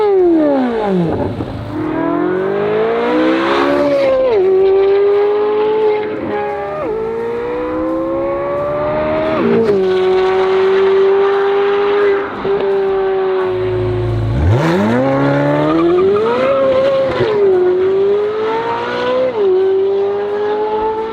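A Chevrolet Corvette C8 Z06 fitted with an AWE Switchpath exhaust revs repeatedly, its loud, close engine note sweeping up and down through several sharp blips and sustained high-rpm holds, with no talking.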